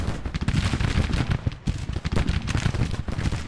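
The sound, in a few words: artillery fire in video game Grand Tactician: The Civil War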